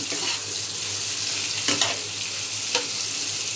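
Onions fry on a high flame for an ilish fish-head kalia with brinjal, giving a steady, loud hiss with a couple of brief stirring scrapes.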